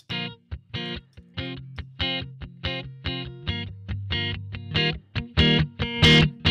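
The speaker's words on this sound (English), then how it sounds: "you get real input stage distortion" Electric guitar run through a SansAmp plugin in Pro Tools with the input stage pushed up for real input stage distortion, a loud, rhythmic series of strummed chords and picked notes with a gritty overdriven edge and no talk.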